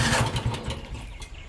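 A Norwood sawmill's small gasoline engine sputters and chugs as someone tries to start it with the choke after it ran out of fuel, a brief, uneven, close-up rumble that fades over a second and a half.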